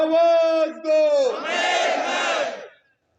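At a farmers' rally in Haryana, a single loud voice calls out a political slogan, then the crowd roars back its response in unison, near and strong, before it cuts off.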